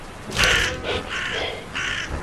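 A crow caws three times in close succession, loud and near, with harsh raspy calls around an abandoned house.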